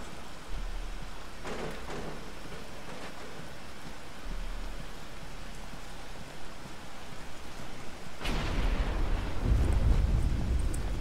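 Rain begins in Batman: Arkham Asylum, a steady hiss of falling rain building into a louder, denser downpour with deep rumbling toward the end.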